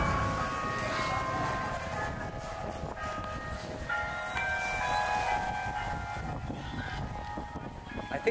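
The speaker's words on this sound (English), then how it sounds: "that's the church bells" Church bells ring at a distance at sunset on Cuyo Island in the Philippines, their tones sustained and overlapping against a steady low background rumble.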